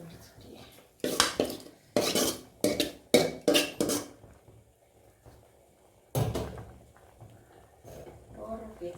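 Onion and tomato go into a cooking pan amid a burst of clattering metal, utensil knocks and pan scrapes in close succession, then a pause and another clank, with faint talk in the background.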